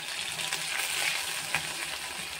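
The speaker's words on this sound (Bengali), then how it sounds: "পোস্তটা তেলের উপর দিয়ে অল্প করে নেড়ে নেব" Poppy seeds fry in oil with mustard seeds as they are stirred for a sour desi amra dish, giving a steady close sizzle with faint scraping touches.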